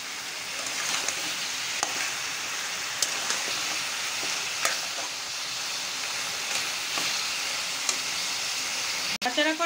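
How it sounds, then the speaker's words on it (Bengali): Buffalo meat with ginger-garlic paste sizzles steadily in a pan, a constant broad frying hiss with intermittent stirring scrapes and a sharp clatter near the end, close and loud throughout. "দিয়ে ভালোভাবে নেড়ে চেড়ে নেব।"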